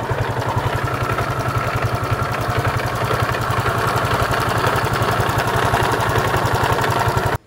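A Honda Pop 110i motorcycle engine idling with a strange internal noise, a fast, even, close putter with a constant ticking rattle running through it, alone until it cuts off abruptly at the end.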